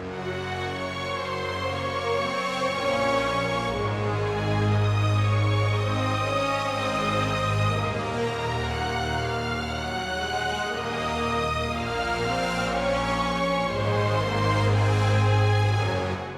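Orchestral arrangement with a melody doubled in octaves, a counter melody and low bass notes, playing as a full, continuous ensemble passage with swelling sustained bass and no talking.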